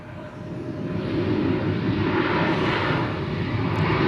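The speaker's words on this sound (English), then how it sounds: "So you hear it, the flight arriving from Milwaukee" A Delta passenger jet inbound from Milwaukee lands at Atlanta airport, a loud, steady broadband engine roar that holds throughout with no one talking.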